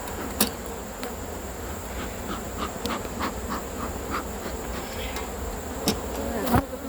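Many honeybees drone in a steady, continuous buzz around an open hive during an inspection, with a few sharp clicks and knocks of handling breaking through.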